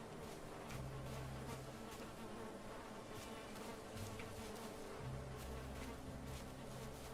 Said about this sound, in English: Oh, I hear bees. Hello, bees.